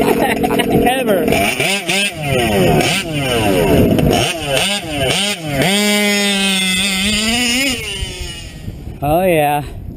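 An OBR 34SS reed-valve two-stroke engine on a REDS R5R expansion pipe, loud and close, revving repeatedly in sharp rising and falling bursts with a crackling, buzzy tone, voices talking over it.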